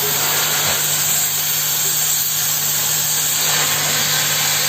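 Steady grinding or gouging on a cracked excavator bucket tooth area, opening a weld groove; a continuous broadband roar with a constant hum, loud and unbroken throughout.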